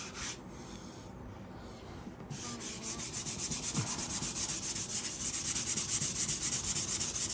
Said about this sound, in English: you can sand your joint compound with your fingers